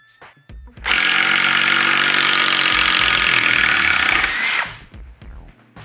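A vintage single-speed DeWalt power tool drives a fastener, its loud steady whine and grinding roar running for about four seconds after a few small handling clicks, then cutting out.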